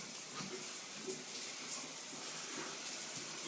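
A hot shower runs in the background, a steady soft hiss of falling water with a few faint thumps and no talk.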